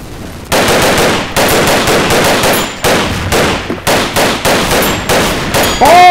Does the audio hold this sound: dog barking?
no